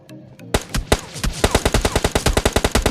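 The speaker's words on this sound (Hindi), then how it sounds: "तो यहाँ पे चलती हैं गोलियाँ" Rapid automatic gunfire from the Free Fire video game rattles out in loud, dense bursts after a few scattered opening shots, the shots coming close together and evenly spaced.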